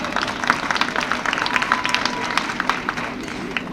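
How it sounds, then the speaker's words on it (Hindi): A crowd at a Hindi kavi sammelan poetry gathering claps steadily, a dense, moderately loud wash of applause with a faint voice drifting through it. "तो एक बार तालियां बजाकर आदेशित करें पीछे तक"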